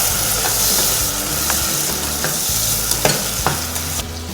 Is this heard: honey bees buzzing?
no